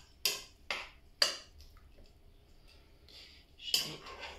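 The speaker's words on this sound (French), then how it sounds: "je vais laisser ma spatule sur le bord de la casserole" A cooking spatula is set down on the rim of a saucepan while ham and leek cannelloni are being made, giving a few sharp, quiet clinks spaced apart, with soft kitchen handling in between and no talking.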